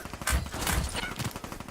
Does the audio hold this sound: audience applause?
no